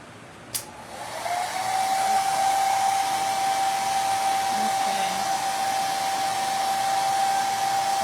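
A hair dryer blows steadily on a handmade mummy door sitter decoration, switching on after a brief click and then running as a loud, continuous whir with a constant whine for the rest of the stretch.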